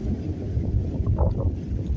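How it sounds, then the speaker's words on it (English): Wind buffets the microphone in a continuous low rumble, gusting slightly, with faint outdoor background noise. "It's windy today, y'all."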